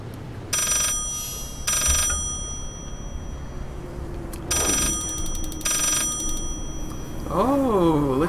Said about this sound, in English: Somebody turn off that ringing noise.